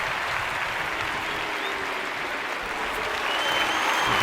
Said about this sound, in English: French fans showing some appreciation for Remy.